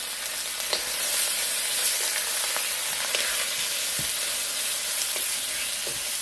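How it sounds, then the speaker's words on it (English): Roast pork and shrimp sauté in a hot pan for Chinese lo mein, giving a continuous loud close sizzle with small pops and occasional stirring scrapes. No talking. "So we'll add the roast pork, we'll add the shrimp, all right? And we'll saute it."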